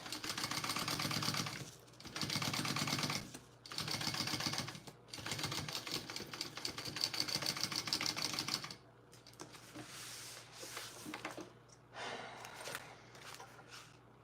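A sewing machine top stitches a small fabric wristlet in several close bursts of rapid mechanical stitching separated by short pauses, quieter handling noises at the end.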